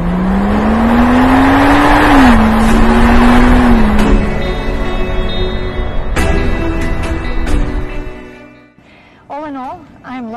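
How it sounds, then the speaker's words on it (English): A Mansory-modified Rolls-Royce SUV with a 600-horsepower V12 engine hums loudly from inside the cabin, its engine note rising and settling as it drives, then fading near the end under a brief tonal sound. "It does have a V12 engine, a lot of power, 600 horsepower."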